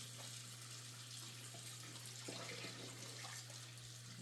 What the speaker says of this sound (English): Just rinse it off 1 time.